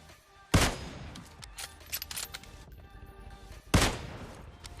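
Two sharp, loud gunshot bursts ring out in a PUBG match, one early and one near the end, with quieter scattered shots and game ambience between them.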